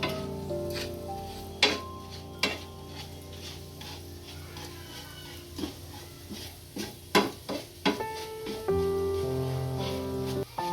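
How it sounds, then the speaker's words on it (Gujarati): Ground spices hit hot oil in a pan for an instant green chili pickle, giving a steady sizzle with occasional clinks of stirring against the pan, under sustained musical tones. "હવે આપણું તેલ ગરમ થઈ ગયું છે, આમાં વાટેલા મસાલા નાખી દઈશું।"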